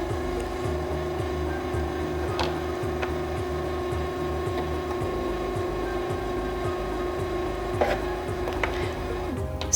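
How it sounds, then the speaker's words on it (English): A Singer Featherweight C240 sewing machine winding a bobbin, its motor humming steadily with a fast, even mechanical ticking throughout, close and continuous, with a couple of faint clicks. "press the bobbin to the right and step on the foot control to begin winding"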